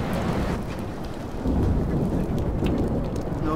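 Thunderstorm in the Life is Strange video game: steady heavy rain hissing over a deep, continuous thunder rumble that swells louder about halfway through, with no voices.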